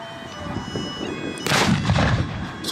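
Mortar fire thumps at a Frontline Sedgefield WWII battle reenactment, with Germans and Allies exchanging fire; a dense outdoor crackle builds into louder, booming blasts midway, several heavy thuds rolling over a steady background roar.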